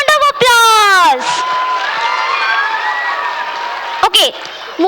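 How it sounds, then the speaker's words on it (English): An audience at a school annual fun show claps and cheers for a student performance, a steady wash of applause and whoops that swells loudly between bursts of amplified speech at the start and end. "One more time, give them a big round of applause."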